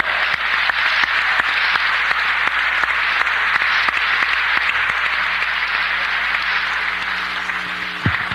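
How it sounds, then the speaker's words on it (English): An audience applauds to welcome a minister onto the stage, sustained even clapping that fills the whole stretch at steady volume and only starts to thin near the close. "Let's bring on Brother Jamil Muhammad with a round of applause."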